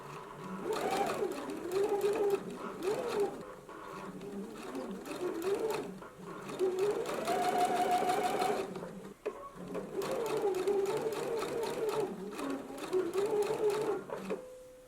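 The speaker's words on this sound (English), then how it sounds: "Let's go ahead and stitch it in place now." Sewing machine stitching a seam, a rapid mechanical whirring that runs in long bursts with a couple of brief pauses and shifts in speed, close and loud.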